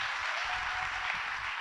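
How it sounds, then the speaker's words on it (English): A back-to-school address crowd for Cincinnati Public Schools applauds union representatives, a soft, distant, even hiss of massed clapping held steady for under two seconds. "Let's hear one more round of applause for our union representatives and all of the employees of Cincinnati"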